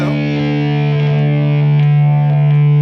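An EVH Wolfgang Custom Standard electric guitar on its neck pickup rings out a loud, sustained distorted chord with effects, thick and steady for nearly three seconds.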